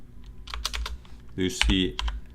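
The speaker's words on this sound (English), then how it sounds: "Now we're going to type opkg install Lucy" Keys clatter as a command is typed on a computer keyboard while setting up a DLNA media server on a mini GL.iNet router, with bursts of quick close taps and a brief faint murmur of speech.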